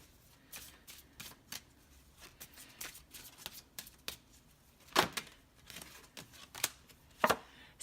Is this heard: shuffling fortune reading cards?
yes